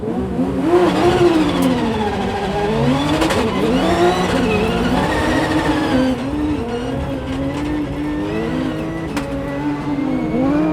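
A rally car on the slippery Walters Arena stage revs hard through rising and falling engine notes, gear changes and brief tire squeal, loud and close from the cabin with no voices.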